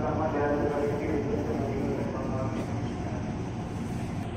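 A KRL commuter line train pulls into Palmerah station in the early hours, a continuous low rumble and rattle of wheels and carriage with a faint voice underneath.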